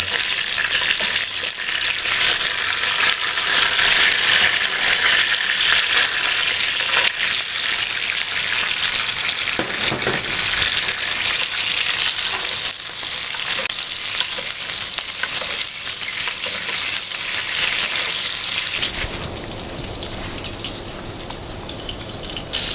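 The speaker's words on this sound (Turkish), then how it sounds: "yakmadan o tereyağının, saf tereyağının aromasıyla onu güzelce geçiriyorum" Beef tenderloin fries in a pan while it is basted with pure butter, giving a continuous loud crackling sizzle with spattering. The sizzle eases and drops in level near the end.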